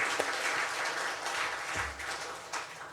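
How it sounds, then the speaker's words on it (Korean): A church congregation gives a round of applause during a Sunday service, a continuous, even rush of many hands clapping that holds steady through the moment without speech. "우리 다시 한번 하나님께 영광 박수 올려드리겠습니다."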